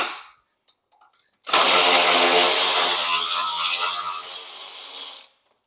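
A power tool spins a socket on a wobble extension, working at an awkward angle while replacing the battery tray of an EZ-GO TXT golf cart; a loud, steady whirring burst of about four seconds follows a few faint clicks, then stops abruptly.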